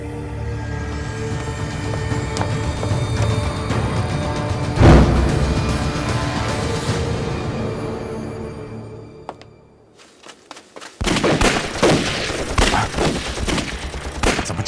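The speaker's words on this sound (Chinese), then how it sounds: "这么密集的枪声" Dense gunfire in a Chinese war film scene of a village massacre: sustained, loud overlapping rifle and machine-gun volleys with sharp cracks, fading briefly before another burst of rapid shots, no talking.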